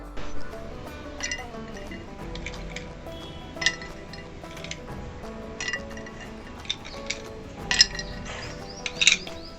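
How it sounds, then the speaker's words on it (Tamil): Ice cubes clink and tumble into a glass of nannari sherbet, with scattered sharp clinks and small splashes against a quiet background and a louder cluster of knocks near the end. "இதில் இப்போ நம்ம ஐஸ் க்யூப்ஸை சேர்த்துக்கலாம்"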